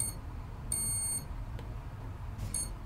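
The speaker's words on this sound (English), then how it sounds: "now you hear beep, beep" A Furitek Unity brushless electronic speed controller gives two short high electronic beeps apart from each other, thin and tonal over a low background hum.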